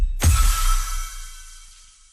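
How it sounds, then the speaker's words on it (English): A Fortnite level-up sound effect from the video game: one sharp, loud hit with a bright shimmering tail that rings out and fades smoothly over about two seconds, alone without speech. "What you heard was the last true level up sound."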